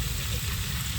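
Hand-marinated fish coated in onion, garlic, cumin, chili, coriander and tomato spices frying in a pan, a dense, continuous loud sizzle over a low rumbling undertone.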